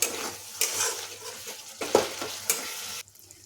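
Spice masala with crushed kasuri methi fries in a pan for a Kolkata club kachori curry, a steady close sizzle broken by a few sharp scraping stirs and clinks of a spoon against the pan, ending abruptly.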